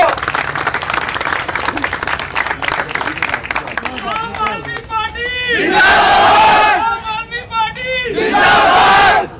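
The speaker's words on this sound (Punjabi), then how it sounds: "ਇੱਕ ਵਾਰੀ ਆਪਣੇ ਆਪ ਲਈ ਤਾੜੀਆਂ ਮਾਰ ਦੋ" A large crowd at a Punjab election campaign gathering claps and roars with cheers, building into two loud surges of shouting and applause, with voices calling out throughout.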